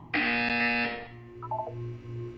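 An electronic buzzer in Portal 2 sounds once, a loud steady tone lasting nearly a second, followed by softer electronic blips and a low hum.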